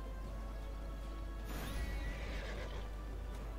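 A horse neighs loudly in Neverwinter, a single drawn-out whinny breaking in midway over steady hoofbeats and a constant low rumble.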